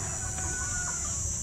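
Chickens clucking on a farm, a few soft calls and short cries rising over a steady outdoor hiss and low rumble, fairly distant and faint throughout.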